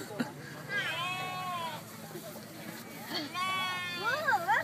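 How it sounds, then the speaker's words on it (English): Sheep waiting to be shorn on a farm bleat close by in several wavering calls, mixed with people talking nearby. "You want to pet it? Pet the sheep?"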